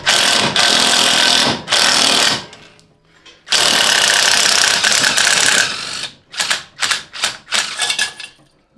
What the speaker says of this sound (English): let's see if we can get this thing pulled off here